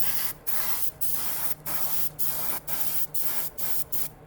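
A spray gun lays a light tack coat of paint on a 1956 Ford in a series of about eight short hissing bursts with brief gaps between them, close and steady.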